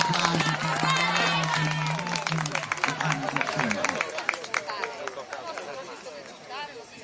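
Spectators at the San Basilio horse race, Sa Cursa de sa Pudda 2009, applaud a rider; an announcer talks over the crowd at first, then scattered clapping and crowd chatter continue outdoors.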